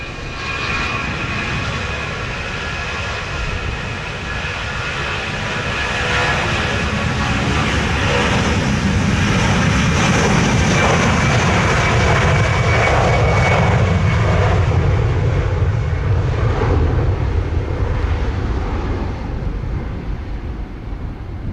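A Delta airliner taking off from runway 07 at Montego Bay, a loud, sustained jet engine roar that swells as the aircraft powers down the runway and climbs, steady throughout with no voices.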